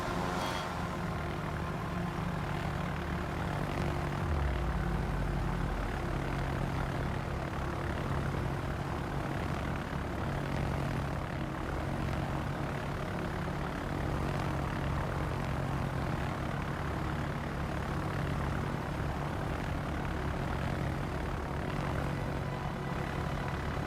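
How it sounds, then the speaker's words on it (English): Propeller aircraft engines drone steadily and loudly in a World of Warships naval battle, a continuous engine hum with low rumble that holds throughout without speech. "Like these planes are incredible."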